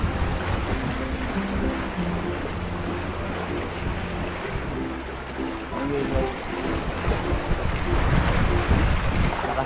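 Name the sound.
strong waves and wind at sea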